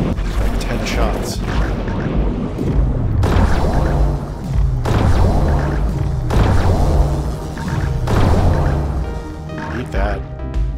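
Gunshots from an underwater gun in Dave the Diver, a series of heavy booming thuds at a steady pace, each followed by a low rumbling decay, with a voice talking over them.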